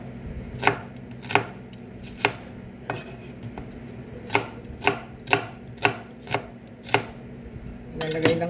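Knife chopping a peeled onion on a cutting board, about a dozen crisp, sharp chops falling in an uneven rhythm over a steady low kitchen hum, close and clear with no talking.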